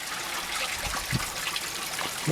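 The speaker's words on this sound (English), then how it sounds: "There's a little brook coming from up there somewhere, and then as I said, it's coming down." A small brook trickles steadily down into a drained stone basin outdoors, a close, continuous bright splashing and babbling of running water with no voices.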